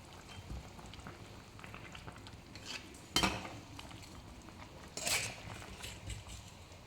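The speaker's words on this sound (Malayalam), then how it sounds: "ഇളക്കി കൊടുക്കാം." A spoon scrapes and clinks against a pot of simmering fish head curry with salt just added, two brief metallic stirring strokes standing out over a soft, quiet bubbling background.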